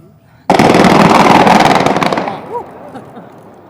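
A large outdoor explosion event of fireworks bursts suddenly into a loud, dense roar of rapid crackling blasts that holds for about two seconds, then thins into scattered pops and whistles as it fades, with faint voices underneath.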